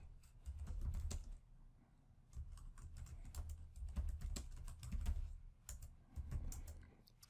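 Keys clack on a computer keyboard in quick bursts of typing, soft close taps in an irregular rhythm over a low hum, with short pauses between runs.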